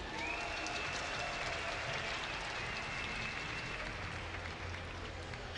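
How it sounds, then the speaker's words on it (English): Crowd cheering and sustained applause at the Gamescom StarCraft 2 ESL Pro Series esports event, a dense, loud, unbroken wash of clapping and cheers from a large audience. "Give a cheer for ESC's GoOdy."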